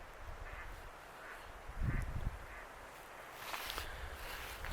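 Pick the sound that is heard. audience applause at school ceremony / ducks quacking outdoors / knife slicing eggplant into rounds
ducks quacking outdoors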